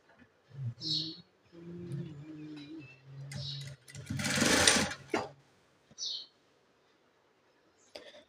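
A sewing machine stitches a blouse side seam in a few short bursts of whirring, close and moderately quiet, separated by pauses with light handling noises.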